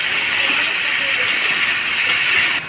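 Potatoes fry in hot oil until browned, giving a loud, steady, close sizzle that runs without a break and drops slightly at the very end, with voices faint beneath.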